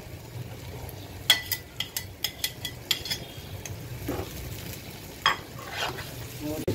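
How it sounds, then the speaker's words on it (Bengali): Pre-fried shrimp tipped into a hot pan of curry base over raised heat, giving a steady sizzle and frying hiss with a run of sharp clicks and taps of a spoon or pan, fairly close, no talking. "ঠিক এই অবস্থায় আমি যে ভেজে নিয়েছিলাম চিংড়ি মাছগুলো দিয়ে দিচ্ছি।"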